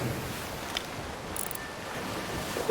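Ocean waves in the pirate video game Sea of Thieves wash in a faint, steady surf and wind rush, low and even, with no voices.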